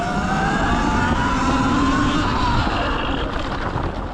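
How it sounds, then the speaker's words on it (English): Sur-Ron electric bike riding a lap on a dirt pit bike track, a loud continuous whine rising and falling in pitch over rushing wind noise, close up with no talking. "gonna do a lap on the pit bike track"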